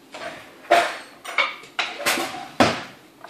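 Metal spoons clatter against dishes as one is picked up: five or six distinct, close clinks and knocks at an irregular rhythm, with no talking.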